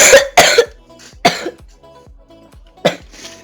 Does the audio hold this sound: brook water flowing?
no